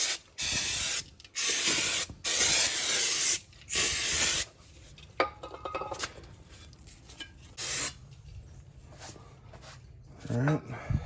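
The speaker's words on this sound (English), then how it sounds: "Let's get a little brake clean on there." Brake cleaner is sprayed onto a rotor on a 2000 Lexus LX470 in four loud, hissing bursts of about a second each. Quieter clicks and handling noises of brake parts follow.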